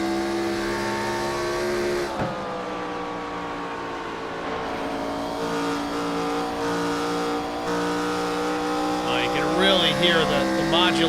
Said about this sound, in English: Hear the modulation of the throttle pedal.